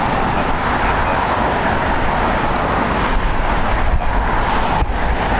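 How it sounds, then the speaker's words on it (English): All Nippon Airways Boeing 787-9 Dreamliner arriving at LAX from Tokyo Narita, a loud continuous jet rumble with wind buffeting, steady throughout. "Arriving on the north side from Tokyo, Narita, is a 9-hour and 27-minute flight on a Boeing 787-9 Dreamliner"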